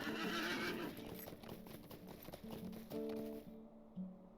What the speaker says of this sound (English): then I'll get on my horse. Strong heart, away!